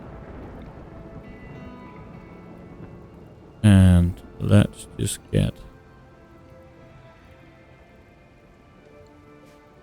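Steady rain hisses in the RimWorld video game. Someone speaks briefly over it midway.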